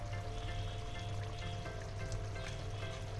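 Ghee and ground whole garam masala hit a pan of potol (pointed gourd) korma, giving a steady, dense sizzle and frying hiss that stays even and close throughout, with no talking.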